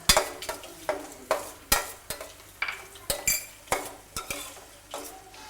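Chilli, ginger, garlic and shallots with a little turmeric stirred in hot oil in a pan, a spoon scraping in steady rhythmic strokes about twice a second over a soft sizzle, close and alone.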